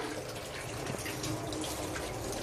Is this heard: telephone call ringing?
no